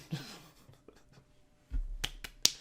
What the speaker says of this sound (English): That's my golf clap for Bitcoin.